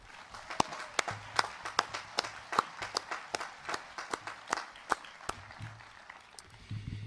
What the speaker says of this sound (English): Please join me in a round of applause for our amazing Enumclaw community.